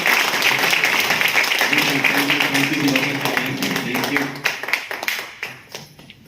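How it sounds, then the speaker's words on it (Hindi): Loud applause from an audience welcoming people at a company event, a dense crowd of hands clapping that carries a voice over it in the middle and then thins into scattered claps near the end. "तो एक बार पुनः जोरदार तालियां बजाएंगे, स्वागत करेंगे"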